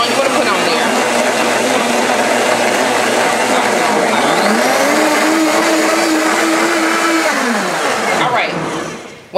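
A blender whirs steadily through a self-cleaning cycle, a loud sustained motor drone whose pitch dips and rises midway before it winds down and stops near the end, with talk over it.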